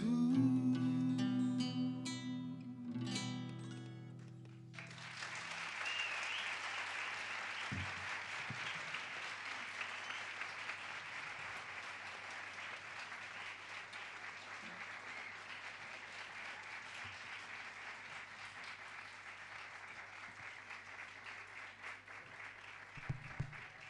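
After a music school concert performance, the last sung notes end and the audience breaks into long, steady applause that stays even and moderately loud for about twenty seconds, with no speech over it.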